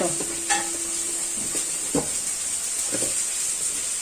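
Carrots tipped into a hot pan for a sausage and lentil dish, giving a steady hissing sizzle throughout with a few soft stirring scrapes and taps, close and even, with no voices.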